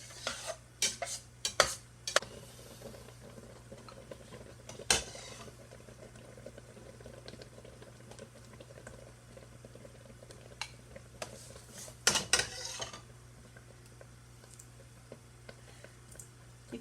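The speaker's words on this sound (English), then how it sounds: "jam is boiling, and what we're going to do is we're going to add that cup of honey that has the 2 teaspoons of pectin" Strawberry jam boiling in a pot while honey mixed with pectin is stirred in, with utensil scrapes and clinks against the pot, a few sharp knocks, and a steady low bubbling underneath.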